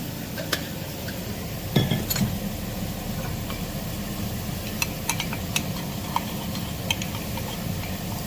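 Salt and cumin powder mixed into a little water in a bowl, light scraping clinks of a spoon against the bowl at irregular intervals over a steady low background hum, no speech.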